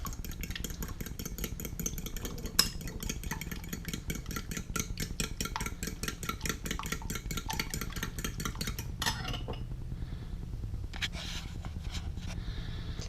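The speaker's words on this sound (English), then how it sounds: "Crack an egg in there. Okay, all we're going to do is whisk this up a little bit." An egg being whisked in a bowl, a fast steady rhythmic clicking and scraping that runs for several seconds and then becomes looser and quieter.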